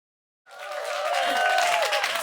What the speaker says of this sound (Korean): 이렇게 열렬히 환호해 주셔서 너무 감사드립니다.